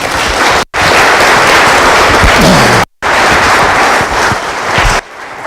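A lecture-hall audience applauds at a university talk after a speaker's introduction, loud dense clapping filling the space in two bursts separated by brief cuts, then fading slightly at the end.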